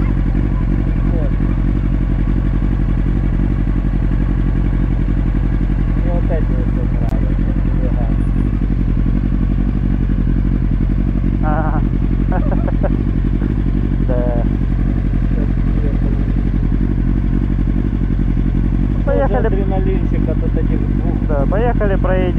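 A Kawasaki Ninja ZX9R motorcycle engine drones steadily and loudly while riding through a town, a constant low rumble throughout with brief voices talking over it.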